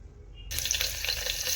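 Oil hitting a hot pan for frying cabbage, bursting into a loud close sizzle after a brief quiet start and crackling steadily to the end.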